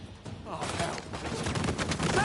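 Rapid gunfire crackles through a game firefight in Uncharted 4, with a heavy mounted turret joining in, sustained and fairly close, while voices shout over the shots.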